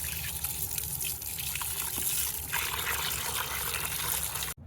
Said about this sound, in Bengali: এখন যাবে এটা ধুয়ে নিব, চিকেনগুলোকে সুন্দর করে ধুয়ে নিতে হবে।